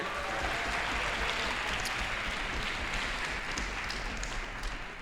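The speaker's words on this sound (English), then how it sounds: "that deserves a round of applause" Steady, dense applause from a large audience at a youth orchestra concert fills the whole stretch at an even, fairly loud level.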